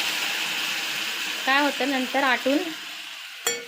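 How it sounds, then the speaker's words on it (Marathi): Hot water poured onto fried masala in a pan, setting off a steady loud sizzle and hiss. Someone speaks briefly over it partway through. "मी आता यात गरम पाणी ओतते सगळं"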